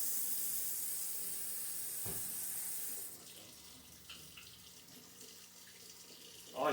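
Tap water runs hard over hands being washed with soap for about three seconds, then cuts off, leaving quieter rubbing and a soft knock at the end.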